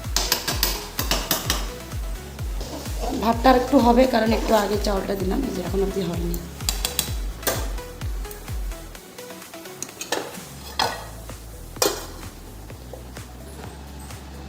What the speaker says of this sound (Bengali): আর এখন একটু নেড়ে চেড়ে রাখি